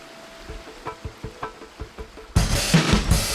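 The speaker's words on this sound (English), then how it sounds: "I'm gonna go up and get the sound of the water" Soft footsteps crunch along a trail beside the Eno River, then the water bursts in as a loud broadband rush of flowing current for the final second.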